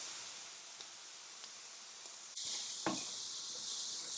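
Chopped vegetables cooking in a pan over medium heat until soft, a steady quiet sizzle that grows louder partway through with a few soft stirring knocks.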